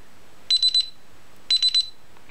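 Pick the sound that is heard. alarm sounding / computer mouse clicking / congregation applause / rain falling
alarm sounding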